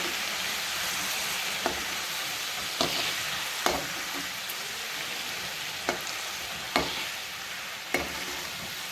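Ginger garlic paste sizzles and fries in a pan, a steady close hiss broken by about seven sharp scrapes or taps of a spoon stirring it.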